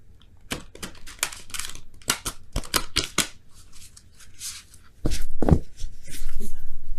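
Large tarot cards being shuffled by hand give a series of quick riffling, flapping bursts, close and fairly quiet, with a louder rustle near the end.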